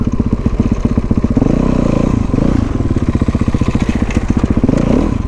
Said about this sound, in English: She's on a stunt bike